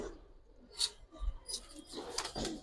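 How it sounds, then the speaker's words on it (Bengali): Silver line pigeons with black beaks coo softly at a distance, with a few faint rustles and flutters spread through the short stretch. "একদম ঠোঁট কালো, সিলভার লাইনের কবুতর"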